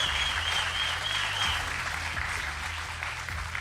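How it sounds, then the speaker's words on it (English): A crowd at a Marvel Contest of Champions Summoners Fest event gives two finalists steady, sustained applause throughout, over a low background hum and a faint high tone. "Give me another round of applause for these two."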